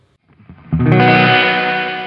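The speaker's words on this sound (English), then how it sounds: "And plate's gonna be a really bright sounding, kind of a more harsh reverb, actually" Electric guitar strummed once through a Sonicake effects pedal set to a bright, harsh plate reverb, a loud distorted chord that rings and slowly decays, preceded by a few faint plucks.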